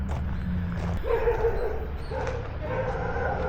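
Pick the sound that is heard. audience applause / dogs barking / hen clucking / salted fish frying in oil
dogs barking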